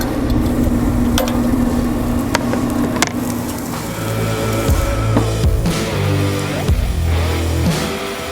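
Tri-tip steak searing on a maxed-out hot Camp Chef Woodwind pellet grill gives a steady, close, loud sizzle with occasional crackles and brief clanks, no voices.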